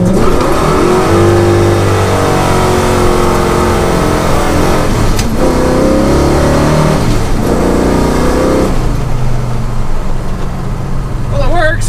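A manual car's engine fitted with FiTech two-step launch control holds a loud, steady, bouncing rev against the limiter for several seconds, close by, with faint crackles near the end.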